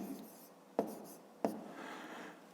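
Handwriting numbers with a pen on paper during a fifth-grade math exercise, faint scratchy strokes with two sharper taps as digits are written, close and quiet.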